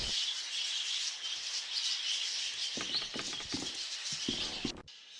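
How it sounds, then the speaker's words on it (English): Birds sing and chirp in a steady, dense chorus through a spooky scene in the Victorian horror adventure game The Last Door Season 2, with a few soft low thumps near the end before the chatter thins out. "No, the birds are still singing."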